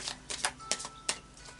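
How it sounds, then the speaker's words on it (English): Oracle cards are shuffled by hand in a few quick, crisp riffling snaps and flicks, close and fairly quiet, spaced irregularly over a short moment. "I'll just do a final shuffle of the Animal Spirit Oracle cards"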